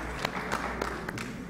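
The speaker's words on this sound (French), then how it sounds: "Très bien, applaudissons cette réponse." An audience at a religious retreat in Paris claps in applause, a steady patter of hands with several sharper bursts, fairly faint and without talk over it.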